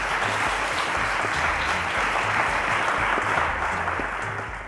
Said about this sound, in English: Round of applause to Nyemike, guys.